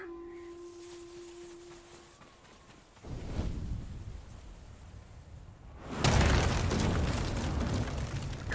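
Explosion of a black powder cache in Ghost of Tsushima: a deep booming blast erupts, then a second louder rumbling burst follows and rolls on, with a faint tone fading beforehand.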